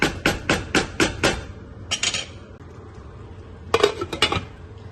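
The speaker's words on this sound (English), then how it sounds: "All right, let's get the lid." A metal lid clattering onto a pot of cooking rice, with a quick string of sharp rattling clanks, then a short pair of taps and a final burst of clinks, loud and close.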